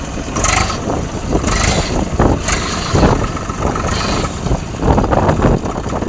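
A Swaraj 744XT tractor runs in second gear with a gearbox fault, the loud close engine churning under repeated rattling, grinding surges that swell and fade every second or so.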